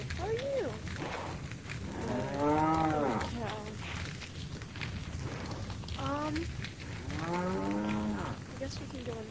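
Cow in Resident Evil 4 VR giving two long, drawn-out moos, the second louder, over continuous game ambience.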